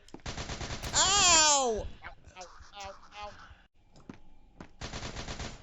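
Gunfire in an SCP video game striking the player, rapid bursts of shots in the opening second and again at the end, with a loud pained shout and talk in between.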